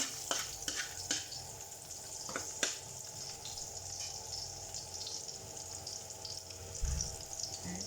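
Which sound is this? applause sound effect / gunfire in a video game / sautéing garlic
sautéing garlic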